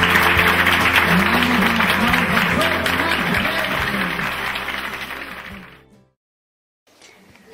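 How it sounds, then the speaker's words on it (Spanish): A crowd gives loud welcoming applause for Father Pepe at a gathering in Jutiapa, Guatemala, with voices mixed in under the clapping before it dies away into silence. "Le vamos a dar un aplauso fuerte al padre Pepe que está aquí."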